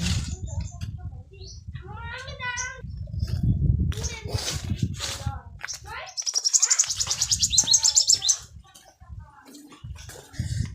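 Varied village birdsong with trilling and chirping calls, partly under a voice speaking nearby, followed by a burst of rapid warbling.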